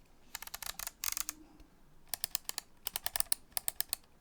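Fujifilm X100F camera buttons and dials clicking in short bursts of crisp, rapid ticks, close and fairly quiet, with brief pauses between clusters.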